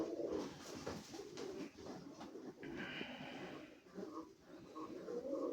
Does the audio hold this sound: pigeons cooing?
yes